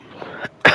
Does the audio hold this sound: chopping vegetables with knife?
no